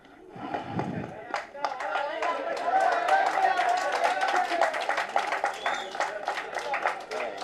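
Audience applause at a comedy speech event, a dense run of claps building after a brief lead-in and staying fairly loud, with someone talking over it.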